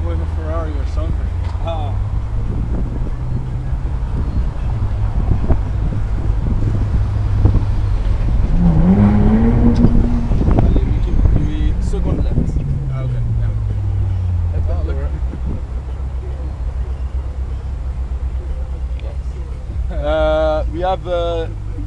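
A Ferrari California convertible passing through a tunnel in Paris, its engine droning low and rising and falling in pitch around the middle, with a loud echoing rush of wind and people talking over it.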